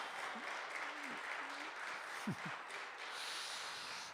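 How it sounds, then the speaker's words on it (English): An audience at an immersive performance of stories and songs about Irish history applauds in a soft, steady patter of clapping. A few low vocal sounds rise briefly over it. "Big round of applause for our Irish ones."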